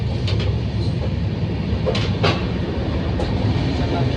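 Low, steady rumble inside a moving train carriage, with faint clattering and brief rattles of the wheels on the track; no clear speech.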